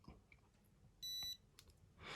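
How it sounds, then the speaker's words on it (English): A Blusafe Mirage fingerprint padlock gives a single short, bright electronic beep, held for about a third of a second and close, set against quiet handling clicks and a brief rustle afterward. "push and hold for 3 seconds, you'll hear a beep and it'll light up."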